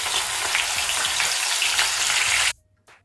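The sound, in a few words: green chillies frying in oil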